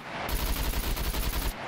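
An M1 rifle fires like a machine gun in the survival game SCUM during a PvP event, a single rapid, evenly spaced burst of loud, close shots lasting just over a second.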